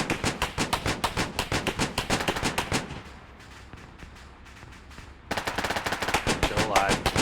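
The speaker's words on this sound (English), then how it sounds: "it looks like the machine gunner's engaging it now." Machine gun fire in ArmA 3: rapid, loud bursts of automatic fire, a sustained string, then a lull of rumbling combat noise before another close, heavy burst.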